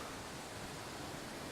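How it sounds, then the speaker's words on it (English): Water pours over a waterfall on Loughrigg Fell, a steady, fairly faint broadband rush with no breaks and no voices over it. "I'm just glad that there's water flowing this time"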